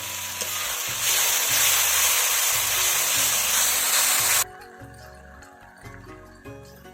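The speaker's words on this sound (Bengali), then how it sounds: "মশলায় হালকা জল দিয়ে দেবো।" Water hitting spice masala as it is fried, a loud close hiss and sizzle that cuts off abruptly into a softer bubbling fry.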